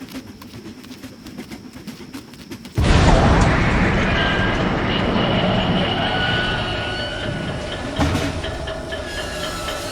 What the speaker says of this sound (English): Blowing off the tracks, the steam engine and cars derailed in all directions.